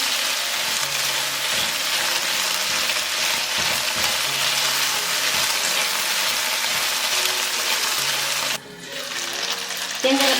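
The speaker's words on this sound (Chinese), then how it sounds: "煎这个排骨呢，我们给它反复翻面，然后盖上盖子，煎煮个2、3次，它也就熟啦。" Pork ribs pan-fry over low heat in a pan with little oil, giving a steady, dense sizzle. Near the end the sound briefly drops and is followed by a few clattering knocks.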